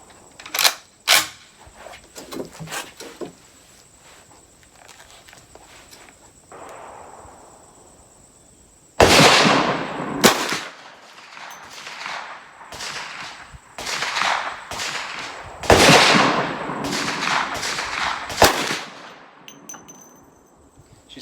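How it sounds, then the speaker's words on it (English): A Ruger M44 carbine rifle firing 240-grain lead soft point rounds: a few sharp early shots, a quiet pause, then a run of loud, separate gunshots spaced a second or two apart. "you're going to witness the first shots out of this rifle in 30 plus years"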